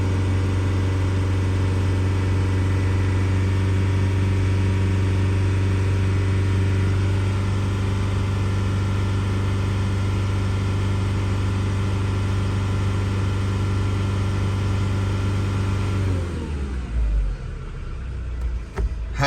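A 2005 Kia Sorento with a 2.5 engine runs at 3000 rpm, giving a loud, steady, close droning hum that holds evenly before dropping away as the revs fall near the end.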